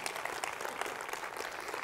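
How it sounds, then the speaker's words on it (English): A church congregation claps hands in a dense, sustained burst of applause, even and fairly loud for under two seconds with no speech. "Clap your hands to the Lord right there if you've got that."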